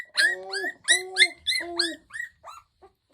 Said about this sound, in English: Got a fine litter of mountain cur puppies hanging out by the wood burner.